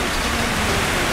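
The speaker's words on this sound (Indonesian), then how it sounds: "Wih, hujan." A rain sound effect: a steady, dense hiss of falling rain fills the short stretch evenly, with no voices over it.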